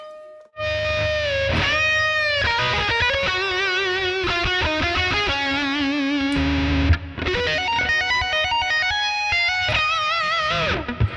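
A distorted electric guitar lead through the Neural DSP Archetype Rabea amp plugin plays fast melodic runs and sustained bends, drenched in delay and reverb, loud and continuous with no talking.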